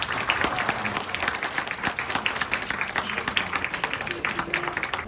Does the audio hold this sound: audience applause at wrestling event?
yes